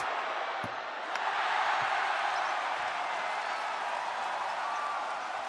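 A basketball arena crowd reacts to a free throw by Isaac Fotu with a steady, broad roar of many voices that swells slightly early, then holds.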